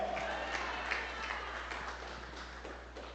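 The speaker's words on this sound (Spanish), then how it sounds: "Dale un aplauso fuerte al Rey de Gloria." Church congregation clapping loudly in praise during a Spanish-language sermon, a moderate, steady patter of many hands over a low electrical hum, fading slightly toward the end.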